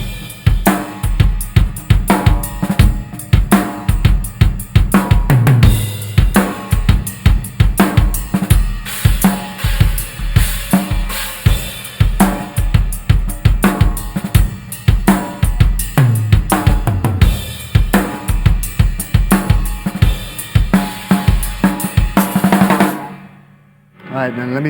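Drum kit played by a rock drummer, working through a slowly played fill at the end of a chorus, dense, loud hits in a steady pounding rhythm for over twenty seconds before cutting off abruptly.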